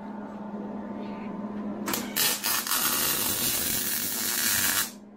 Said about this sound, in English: Just start putting weld in there.